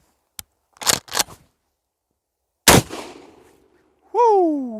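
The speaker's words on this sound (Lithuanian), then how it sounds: "Kulkos šūvis žymiai intensyvesnis ir turim vieną didelę skylę" A pump-action smoothbore shotgun fires a slug at a target 10 metres away. A few sharp mechanical clicks come first, then one loud close blast with a decaying tail, followed by a brief tonal sweep at the end.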